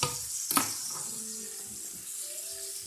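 Rice browning in a pan for a stir fry, giving a steady close sizzle and frying hiss with a sharp clatter of stirring near the start and faint tonal kitchen sounds later.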